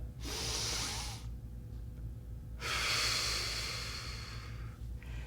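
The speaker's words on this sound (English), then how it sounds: "Let's do one more Pilates breath." Two long forceful Pilates exhalations through the mouth while tightening the belly, each a breathy hiss of about a second or two separated by a quiet pause, close and alone.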